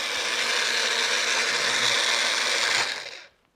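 A blender whirs through a pina colada-flavored Super Greens drink, a loud, dense motor roar held steady for about three seconds before it spins down and stops.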